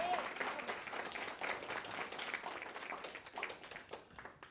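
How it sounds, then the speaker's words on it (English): Quiet congregational applause fills a church service, a rolling patter of many hands that gradually thins out toward the end, with faint voices mixed in. "Let's give him another round of applause."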